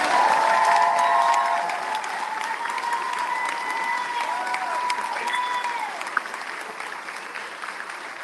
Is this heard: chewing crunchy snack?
no